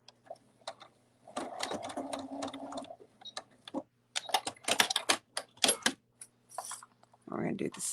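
A sewing machine stitches a small L shape on a cuddle bunny in short, quick bursts of rattling chatter with pauses between, close by, and a person talks briefly near the end.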